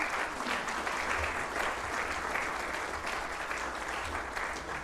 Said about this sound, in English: you guys can make a little round of applause for Claire as she makes her way up